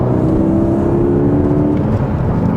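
A 2022 Porsche Cayman GTS 4.0 engine is heard from inside the car, a loud, close, steady drone with harmonic tones that dips and swells briefly as throttle blips change its pitch, with no voices.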